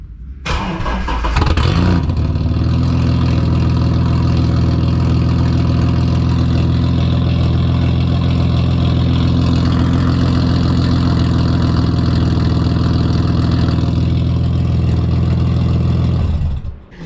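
A Ford AU drift car with a new exhaust starts up and settles into a loud, deep, steady idle, the rumbling exhaust drone holding close and constant until it cuts off at the end.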